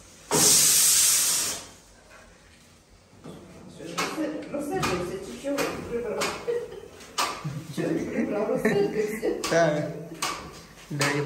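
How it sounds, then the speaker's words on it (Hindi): A pressure cooker whistle lets out a loud hissing blast of steam at the start. Louder clatter and movement noises follow in a student hostel kitchen. "जो उस कुकर की सीटी होती है"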